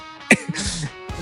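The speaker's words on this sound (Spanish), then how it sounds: "Me da mis ataques de tos, te cuento, en las noches porque estoy resfriado." Coughing from a cold during a podcast, two sharp close coughs framing a rough raspy throat-clearing sound in between, loud and alone without speech.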